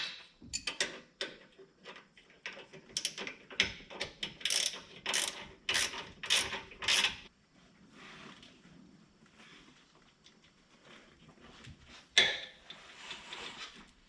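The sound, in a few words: tightening differential bolts with ratcheting wrench and breaker bar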